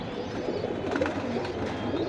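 Many pigeons coo together in a dense, continuous chorus close by at a pigeon sale, with no one talking.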